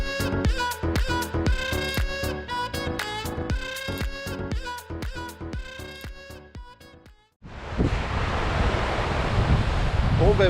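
Wind and waves roll in on a beach during surfcasting, a steady broad rushing wash filling the second half after a stretch of music.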